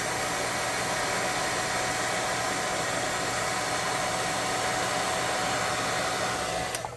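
A hot air gun blows steadily and loudly to dry paint on a miniature, a constant breathy roar with a slight motor hum that holds unbroken for several seconds before cutting off.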